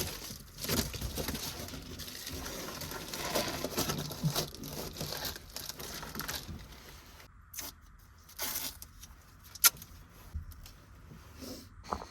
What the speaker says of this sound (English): So I put some like roll-up insulation as like to cover the window.